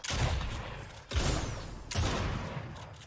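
Rapid bursts of gunfire from a Fortnite battle, three loud volleys in quick succession, each sharp onset trailing into a dense rattling decay with no talk over it.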